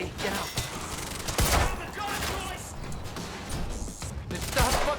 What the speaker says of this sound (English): Then stop fucking shooting at us!